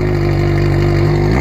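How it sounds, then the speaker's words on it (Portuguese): A motorcycle's aftermarket exhaust roars loud and close in a steady, throaty drone with strong low harmonics, holding a sustained rev throughout without any talk. "E é esse aí o escapamento que eu falei pra vocês"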